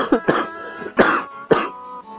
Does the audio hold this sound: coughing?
yes